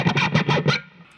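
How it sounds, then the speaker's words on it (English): Scraping and rubbing against the microphonic pickups of a 1978 Gibson Les Paul Custom, coming through the amp as several loud, distorted bursts in quick succession that cut off abruptly into a faint hum. "the pickups have gone microphonic"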